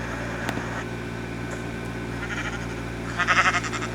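Sheep bleat in short wavering calls, one faint cry early and a louder rapid pulsing bleat near the end, over a constant mechanical hum.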